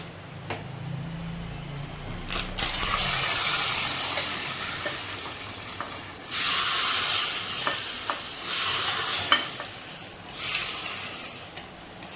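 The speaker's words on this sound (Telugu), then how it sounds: "కరివేపాకు వేసుకున్న తర్వాత కొంచెం చిట్టుకంటది, జాగ్రత్తగా గ్యాస్ మీద ఇప్పుడు దీన్ని రసంలో వేసేసుకుందామండి" A curry leaf tempering poured into tomato rasam gives a loud, broad sizzle and hiss that swells in waves, with a few clinks from a utensil against the pot and no voices.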